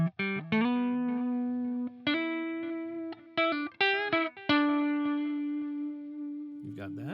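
Electric guitar played through a delay pedal, picked notes and short chords each followed by clear, distinct repeats that ring out and decay, close and fairly loud; a brief spoken voice comes at the end.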